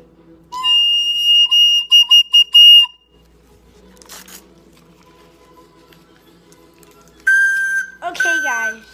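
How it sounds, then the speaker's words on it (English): A handmade firework whistle gives a bright, shrill piping tone in several short bursts over about two seconds. After a quiet gap, louder whistling tones return with falling, warbling pitches near the end. "Take out the whistle. This whistle's long."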